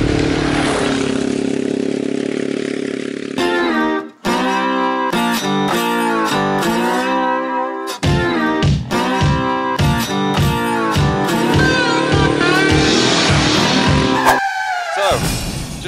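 An adventure motorcycle riding out across the Simpson Desert, its engine revving up and down through gear changes in steady pulsing bursts, loud and close, with no talk.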